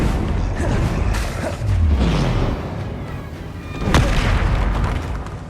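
A Confringo explosive spell blast in Hogwarts Legacy, heard as loud, rumbling booms and bursts amid ongoing combat sounds, with a sharp blast near the end and no talking.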